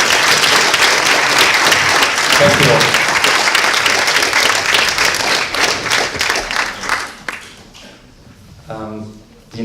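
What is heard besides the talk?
audience applause at award ceremony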